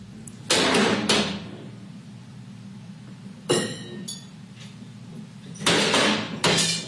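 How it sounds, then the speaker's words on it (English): Cupboard doors in a West Hollywood home banged repeatedly by a man, heard in a replayed recording: sharp, loud wooden slams in irregular bursts of two and three, separated by a low room hum. "showing a video she'd secretly recorded of the actor banging cupboard doors in his West Hollywood"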